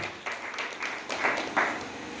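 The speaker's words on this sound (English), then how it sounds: "Please a round of applause for him." Small audience at a school equipment donation event giving a short round of applause for a guest, a few scattered claps swelling briefly.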